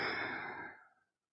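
One long, deep exhale during a yoga twisting pose, a close, breathy whoosh that fades out after about a second.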